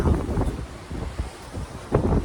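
Strong wind buffets the microphone in heavy, roaring gusts, with a louder surge near the end, on an exposed stretch of railway line.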